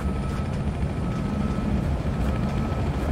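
A helicopter in the video game Manhunt 2, a steady, loud rotor and engine drone with a faint rhythmic chop and a thin whine above it, holding constant throughout.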